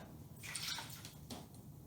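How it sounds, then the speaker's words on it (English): Half a cup of lukewarm water being poured into a bread dough mixture, a soft, steady splashing trickle lasting under two seconds, quiet and close, with no talking. "half a cup of lukewarm water, and you add it to your mixture"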